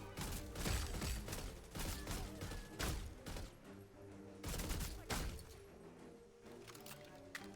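Assault rifle fire in the video game Redfall: several loud bursts of shots with broadband cracks, separated by short lulls, over a steady game soundscape with no talk.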